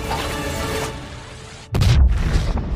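A car packed with gasoline and explosives blows up at a gate in a film. A sudden, deep boom cuts in after a stretch of tense ambient sound and is followed by a rolling roar, with no talk.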